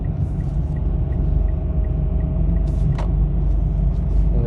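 A car's engine drones steadily in sport mode while driving on a road, the tone sounding off, with a low rumble and a short hiss midway.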